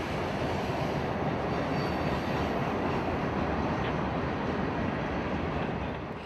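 A Ringling Bros. circus train rolls past in 2008 with a loud, steady, broadband rumble of wheels and cars that holds constant throughout, with no talking.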